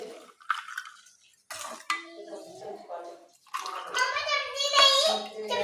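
Mint sharbat pours from a container into a glass of ice, a close splashing, trickling stream with light clinks of ice and glass.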